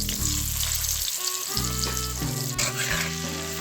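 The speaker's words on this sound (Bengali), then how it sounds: "এভাবে একটু লাল লাল করে আলুগুলো ভাজতে হবে" Potato pieces fry in oil over a medium gas flame, giving a continuous busy sizzle with a few stirring scrapes, close and fairly loud, with no voices.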